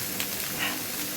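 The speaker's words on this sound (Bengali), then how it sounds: "এটা ভেজে নিতে হয় তেল দিয়ে।" Soybean chunks fry in oil with a soft, steady sizzle, a fairly quiet hiss heard briefly and alone.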